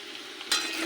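Grated ginger and slit green chillies hit hot oil in a pan with potatoes already fried, giving a sudden bright sizzle that stays steady and close.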